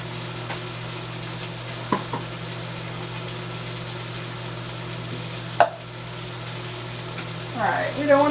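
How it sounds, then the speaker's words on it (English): A steady hiss of potatoes frying in a pan, broken by a few sharp clicks and clatters of utensils. "we don't want to leave the potatoes frying for too long"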